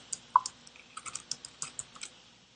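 Short burst of typing on a computer keyboard: a dozen or so crisp, irregular key clicks, close and clear, with no voices.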